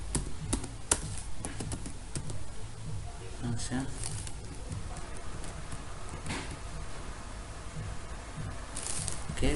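Computer keyboard clacking steadily while JavaScript code is typed, a rapid run of close, light key taps continuing under someone speaking throughout.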